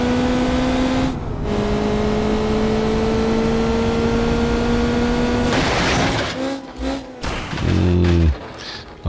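In the BeamNG.drive driving game, a more powerful car revs toward a wall: a steady engine drone slowly climbs in pitch, then cuts into a harsh noisy burst followed by choppy, uneven revs.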